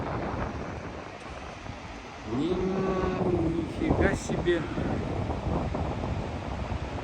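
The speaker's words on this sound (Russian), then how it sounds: "Вот это называется Тихий океан." Pacific Ocean surf and strong wind during a typhoon give a continuous broadband roar with gusts buffeting the microphone, swelling louder midway, while a man exclaims briefly over it.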